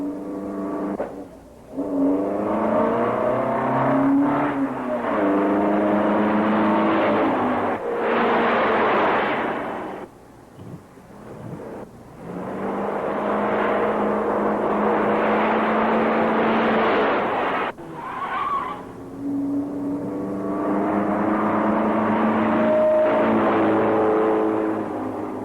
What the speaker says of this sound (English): Pursuit of a red car,